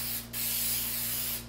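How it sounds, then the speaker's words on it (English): A steady hissing spray onto fabric lasting over a second, with a brief dip near the start, over a low electrical hum, indoors in a kitchen. "I'm going to spray"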